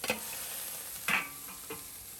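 Lobster shell pieces fry quietly in a pan, a faint sizzle broken by a few sharp clicks and scrapes as they are moved, with no talking.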